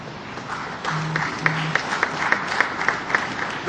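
Audience applause for a technical secretariat at a closing session of a conference of provincial assembly presidents in Goma: a steady wash of clapping with sharper individual claps punching through at a regular pace, fairly close and continuous throughout.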